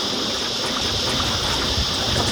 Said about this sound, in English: I can hear the sound of water rippling on the hull.